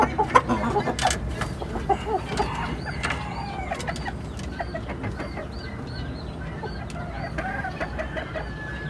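Chickens and roosters in a coop cluck and squawk in scattered bursts, mid-distance and fairly quiet, with occasional sharp knocks and rustling in the enclosure.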